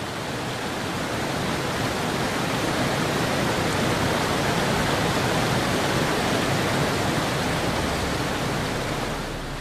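Mountain waterfall cascades plunge down steep slopes in a dense, steady roar of rushing water that stays loud and unbroken throughout.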